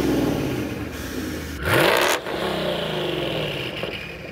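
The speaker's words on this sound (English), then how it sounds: "it really changed the exhaust note on this car, especially being a twin turbo car" Twin-turbo 2020 Ford Mustang GT with a Corsa exhaust, idling loud and close before a sharp rev burst that quickly drops back to a rumbling idle.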